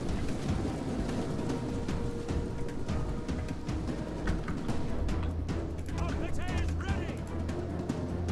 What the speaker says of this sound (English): So here comes the hail of javelins